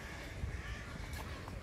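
Crows caw at an Irish theme park outdoors, a few harsh calls over a steady background rumble, fairly close and without talk.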